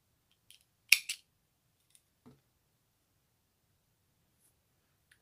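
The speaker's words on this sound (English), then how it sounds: "we're going to cut our yarn" Scissors snip through crochet yarn in a quiet room after a sleeve is joined on a baby bomber jacket: two quick close cuts, followed by a faint tap and a soft low thump.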